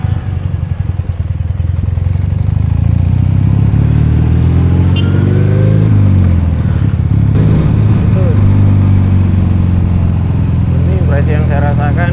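Ural Patrol 2017 sidecar motorcycle engine running steadily and loud throughout a test ride, with revs rising and falling in sweeping pitch changes, under someone talking.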